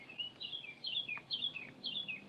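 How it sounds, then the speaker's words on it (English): Birds chirping outdoors in a faint, repeated pattern of short descending calls at a moderate distance, with no voices present. "Pretty birds."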